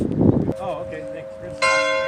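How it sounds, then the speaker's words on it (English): Church bells ring in a park during a nature walk, tonal bell strikes sounding after a burst of nearby noise, the clang growing brighter near the end. "The church bells are ringing."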